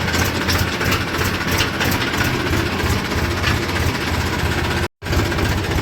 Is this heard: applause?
no